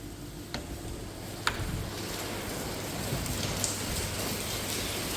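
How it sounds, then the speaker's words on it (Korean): Heavy rain falling steadily at a holiday stay in Hua Hin, Thailand, a dense, continuous hiss with a few sharper drips and ticks close by, no voices. "비가 제법 많이 오네요."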